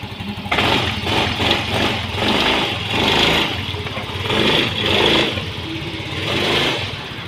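A Honda Mio Soul i 125 scooter engine runs steadily just after being started, a loud, close mid-pitched idle with slight swells in revs and no talking.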